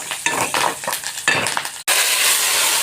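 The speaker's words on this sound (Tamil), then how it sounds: "ஒரு வத்தல் போட்டுக்கிடுவோம். வெங்காயம் போட்டுக்கிடுவோம். கருவேப்பிலை போட்டுக்கோங்க." Dried red chilies, onion and curry leaves tempering in hot oil for sambar: several scraping stirs of a spoon in the pan, then a steady bright sizzle of frying.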